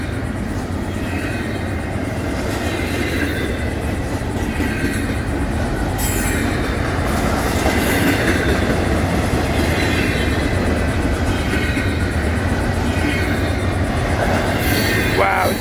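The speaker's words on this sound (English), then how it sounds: "I'll get the train filmed." Amtrak Auto Train rolling past at Palatka, Florida: a steady, loud rumble of railcars and wheels on track, with occasional metallic squeal, continuing without a break from start to finish.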